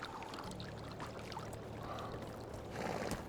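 Steady flowing water of a stream in the game Medieval Dynasty, a continuous broadband rush with a faint low hum beneath it, swelling slightly louder near the end.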